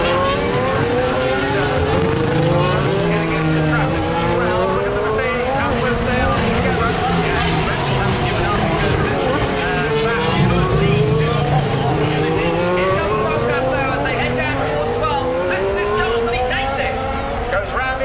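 Formula 1 race cars on a 2019 Grand Prix circuit, heard from trackside at a corner: loud, continuous high-pitched engine whine with rising and falling pitch sweeps as several cars pass close by in traffic.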